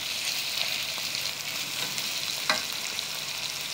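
Chicken and chana fry in a pan with freshly added green chili paste, giving an even, close sizzle broken by a few sharp stirring scrapes, with no voices.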